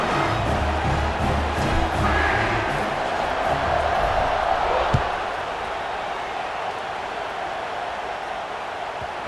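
A stadium crowd in the College Football 26 video game roars as a steady, broad wash of noise, swelling early and then holding at a slightly lower level.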